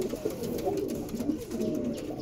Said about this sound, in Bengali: এবার আমি 3 নম্বর জোড়া দেখাবো, যেটা পাকিস্তানি লাইনের পায়রা, চীনা টেডি।